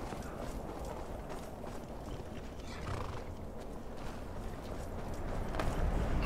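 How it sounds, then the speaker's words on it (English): Horse in the video game Skyrim running over mountainous terrain, hooves and a whinny blending into a steady, moderately loud wash of game ambience and wind with no talking. "My horse ran up here."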